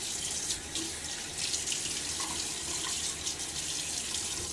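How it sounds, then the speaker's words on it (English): Running water from a faucet flows steadily into a sink, a soft continuous wash with faint splashes as water is splashed on a face while shaving, no voices. "I'm going to splash my face with water."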